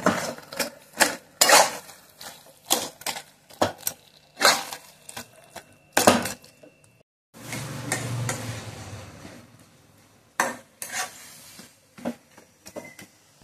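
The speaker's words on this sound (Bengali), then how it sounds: "এখন মাছের মাথাটাও অ্যাড করে দিচ্ছি, এরপর ভালোভাবে নেড়ে চেড়ে এদেরকে এক করে দিতে হবে।" Hilsa fish head is stirred with taro leaves in a pan, giving repeated sharp spoon scrapes and clinks near the listener, broken by a short stretch of softer sizzling before the stirring resumes.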